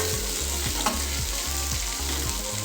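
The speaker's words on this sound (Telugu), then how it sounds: "ఆవాలు జీలకర్ర వేసుకుందామండి. ఇప్పుడు మనం బాగా వేగనివ్వాలి." Mustard seeds and cumin sizzle and crackle in hot oil at a steady close-up level, a constant frying hiss with a faint regular low thump underneath and a brief pop near the start.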